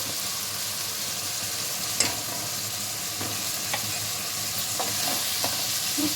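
A brinjal and fish curry fries in oil while being stirred, a steady close sizzle broken by several sharp scrapes and taps of the spoon against the pan.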